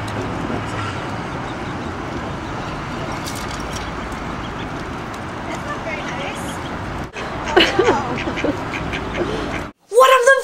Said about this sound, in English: he's a duck, he can swim